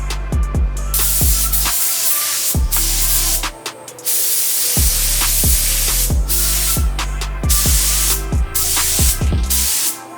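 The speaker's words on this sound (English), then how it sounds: "I'm just going to throw it in the little touch-up gun" A small touch-up spray gun sprays base coat paint on Tacoma parts, loud bursts of airy hiss in repeated passes, broken by short pauses and sharp trigger clicks.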